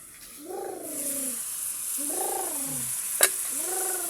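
Bihon noodles with meat and Magic Sarap seasoning are stirred in a hot pan, giving a steady sizzling hiss with light scraping; a few short, high, meow-like cries sound faintly over the frying.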